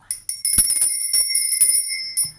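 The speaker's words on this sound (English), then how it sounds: "I have this lovely lady bell. I'm going to be ringing her." A lady-shaped handbell is rung close up: a bright, high metallic ring, struck repeatedly in quick succession so the tones overlap and sustain, ending with a final strike.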